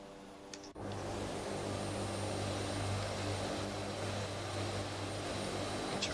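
Four-engine turboprop drone of a Captain Sim C-130H Hercules in a flight simulator game, starting abruptly after a brief quiet moment, then running as a steady, loud, even hum that stays constant to the end.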